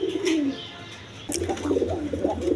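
Danish pigeons, a pair of Andalusian-coloured birds, give soft low cooing and throaty murmurs close by, with a brief chirp, the coos growing fuller and more continuous in the second half.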